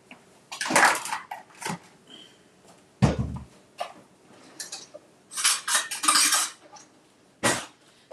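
Dishes and cutlery being cleaned up in a home kitchen after a cooking session: bursts of clinking silverware and knocking pots and plates, irregular and close, with brief pauses between clatters.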